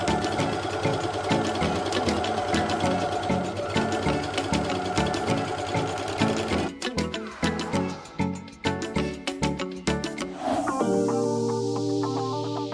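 A Janome AirThread 2000D overlock machine with two needles and active cutting blade sews a standard seam at automatic standard tension, a loud rapid chatter that slows into stuttering bursts before stopping with a clunk.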